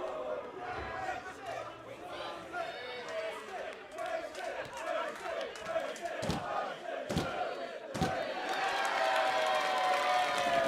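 A crowd at an all-ages Attack Pro Wrestling show cheers and shouts, with a commentator talking over it and sharp thuds from the ring cutting through, and the crowd noise swelling louder near the end.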